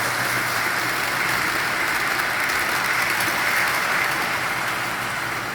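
A brand-new Lehigh Valley model locomotive on a Pennsylvania Flyer layout hauls tank cars and mixed freight, giving a steady, close, continuous rumbling whir with clattering over the track and no pauses or talk.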